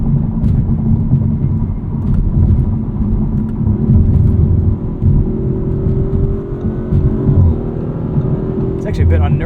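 A 2023 Audi RS5 Competition Coupe accelerates on throttle out of a corner, its engine a steady loud rumble with rising tone, heard from inside the car without a break.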